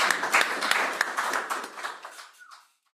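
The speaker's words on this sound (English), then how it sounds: "clap for yourselves" Audience applause at a musical sermon, a dense wash of hand claps that thins out and dies away over about three seconds, ending in silence.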